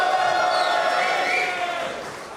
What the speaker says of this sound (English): Unequivocal response from the crowd there.